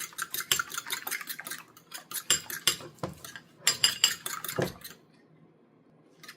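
Eggs and fresh cream are beaten in a bowl for omurice with a fast, rhythmic clatter of utensil against dish, close and loud in quick bursts. The whisking stops abruptly, leaving near quiet.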